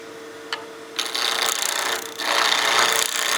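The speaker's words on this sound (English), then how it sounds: "Using the long point of the skew to cut in this direction." A skew chisel's long point cutting across spinning wood on a lathe while turning a small bat house ornament, a steady close scraping rasp that swells after a brief tap and grows louder and broader toward the end.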